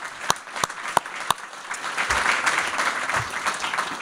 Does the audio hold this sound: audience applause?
yes